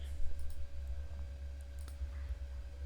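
A single computer mouse click on the undo command in Notepad comes as a faint, brief tick over a quiet room hum.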